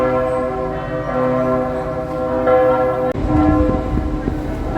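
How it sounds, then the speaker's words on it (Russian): Church bells ring out in the old harbour town of Honfleur, Normandy, with overlapping resonant strikes swelling and decaying in a rich, loud, continuous peal heard close by outdoors. "Встречает меня колокольный звон."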